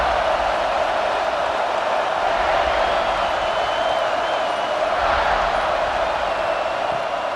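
A stadium crowd in the College Football 26 video game, LSU at South Carolina, roars as a steady, dense wash of cheering throughout, with no distinct individual voices standing out.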